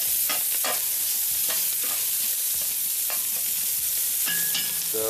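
Bacon or other cured meat browns and renders in a pot for a shellcracker gumbo, giving a loud, constant close sizzle broken by several sharp utensil scrapes and knocks, with no voices.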